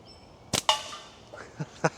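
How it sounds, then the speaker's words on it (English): Clay ammo fired at an empty soup can, giving two sharp cracks close together followed by two fainter snapping hits a second later, with no talking. "what can the clay ammo do against a soup can?"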